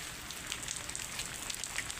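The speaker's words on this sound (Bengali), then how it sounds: "অনেক বৃষ্টি হচ্ছে" Dense, continuous hiss of heavy rain falling, an even wash of drops with no pauses and no voices.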